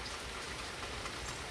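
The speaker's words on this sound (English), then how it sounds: "This is about as hard as it's rained today" Heavy rain pours down outside in a dense, steady hiss of drops striking surfaces, continuous and even with no voices.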